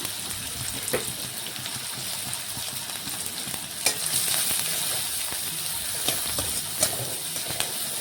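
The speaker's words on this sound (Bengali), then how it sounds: "পেঁয়াজটাও একটু নাড়াচাড়া করে লাল লাল ভেজে নিচ্ছি" Chopped onion fries in oil with five-spice in a kadai, a continuous close sizzle with occasional sharp clicks and scrapes as it is stirred, and no one speaking.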